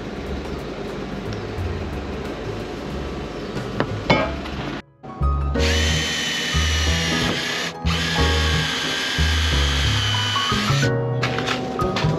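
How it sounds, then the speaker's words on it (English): A power drill fitted with a countersink bit bores recessed screw holes in van flooring, whining loudly in a short burst and then a longer sustained run, with brief pauses and nearby clatter. "I'm going to use this countersink bit for this, which makes a really nice recessed hole like that."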